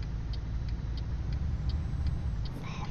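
Scania truck engine in Euro Truck Simulator 2 gives a steady low rumble with a faint, regular ticking above it and a brief higher hiss near the end, with no voices.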